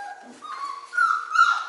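Five-week-old puppies whimpering in a sleepy pile, a run of thin high whines and yips that rise and sharpen toward the end, close and fairly clear with no talk.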